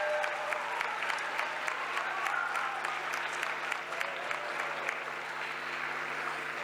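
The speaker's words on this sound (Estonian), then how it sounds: "Teeme nüüd ühe kõvema aplausi uuesti, sest see oli natukene liiga tagasihoidlik." Concert audience at an Estonian spring festival applauding steadily, a dense wash of clapping that holds evenly for several seconds at moderate distance, with no talk over it.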